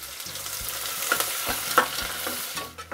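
Curry leaves and finely chopped onion sizzling in a pan with pepper and cloves, while a spoon scrapes and taps against the metal in quick, uneven strokes over a close, continuous fry, with no talking.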